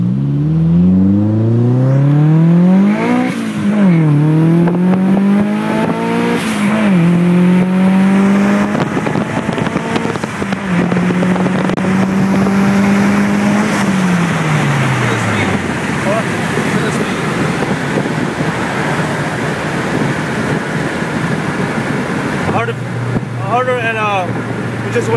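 A 1991 Nissan 240 engine revs up through rising and falling gear pitches, loud and close from outside, then settles into a steady drone and fades as the car passes; voices talk over parts of it.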